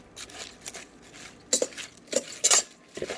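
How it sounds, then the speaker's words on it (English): A knife tossing Caesar salad with creamy dressing in a bowl, giving scattered light clinks and soft scrapes in quick irregular bursts, close and fairly quiet. "I'm using my knife to mix my salad."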